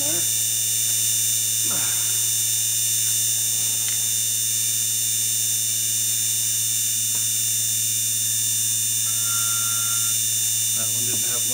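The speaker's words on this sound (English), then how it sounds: "This electric trimmer is from Billon. It's their rapid trimmer." A Billon rapid electric trimmer with a rotating inserted cutter trims reloading brass cases, giving a steady, close motor hum throughout with a few brief scraping touches as the cutter bites.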